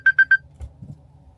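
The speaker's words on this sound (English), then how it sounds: "My alarm just went off, and I need to have a meeting." An alarm clock gives three quick, bright beeps in an even rhythm, then falls silent apart from faint low rustling.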